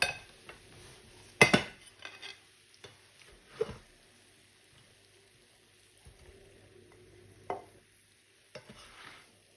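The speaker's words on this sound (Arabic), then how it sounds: "انا غادي نحيد الغطاء، غادي نديرها في الصحن هكا" Cooked potatoes are handled at a frying pan: a metal lid clatters off, then a few utensil scrapes and clinks against pan and plate sound in sparse, close bursts over a faint sizzle.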